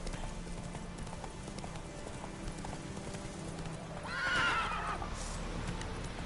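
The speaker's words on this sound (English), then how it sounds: "Oh, get on the bloody horse, Geralt." The horse Roach whinnies loudly partway through in The Witcher 3: Hearts of Stone, over steady hoof clip-clops and a dense background bed of game ambience.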